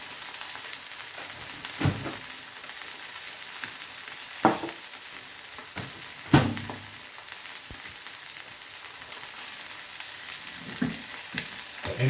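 A little melted butter sizzles in a frying pan before a curry sauce goes in, a soft steady crackle broken by a few sharp clinks and scrapes, close by, without any speech.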